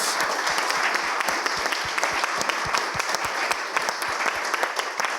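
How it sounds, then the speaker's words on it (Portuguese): Steady audience applause for guests at an education and communication talk show event, many hands clapping with distinct sharp claps standing out, sustained and fairly close throughout. "uma salva de palmas aqui para os nossos convidados"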